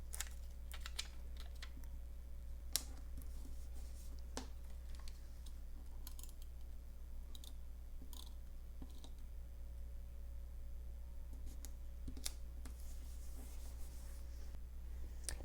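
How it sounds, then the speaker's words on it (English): Tombow Mono correction tape is drawn across a paper planner page in short, quiet scratchy strokes and taps, scattered clicks over a low steady background hum, with no voices. "So let me place this down, and then Tombow mono"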